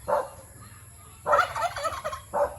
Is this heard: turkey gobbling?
yes